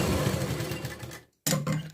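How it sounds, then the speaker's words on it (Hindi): Sewing machine stitching tucks on a blouse, a fast rattling whir running steadily, cutting out briefly for a moment of silence, then starting up again loud and close. "तो हम यहाँ तक ही इसको स्टिच करेंगे।"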